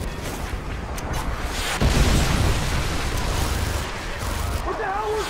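Missile explosions in Call of Duty: Modern Warfare 2, a loud sustained roar of booms and rumbling blasts with a heavy surge near the middle, under gunfire-like bursts and shouted voices.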